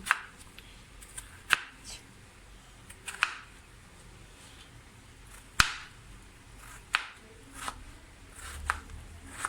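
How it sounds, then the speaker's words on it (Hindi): A knife chops potatoes on a board for an omelette, with sharp, isolated knocks spaced a second or two apart and faint cutting rustles between them. The chopping is close and quiet. "इसी तरह मैं ये वाला भी काट लूँगी।"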